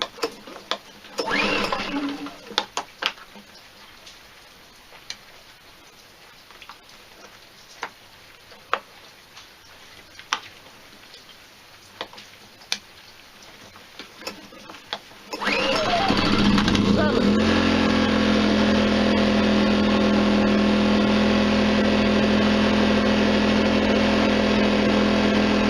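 iPower SUA2000iD 2000W dual fuel inverter generator starting up after quiet ticking, then running with a loud, steady, close engine drone for the last ten seconds; someone talks during the quieter opening.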